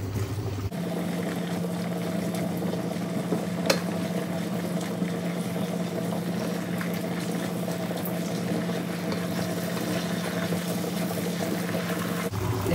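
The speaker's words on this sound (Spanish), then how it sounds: "Removemos hasta que se espese." Oyster mushroom sauce bubbling and simmering in a pan as it is stirred to thicken, a continuous low bubbling texture with a faint clink partway through, steady and close.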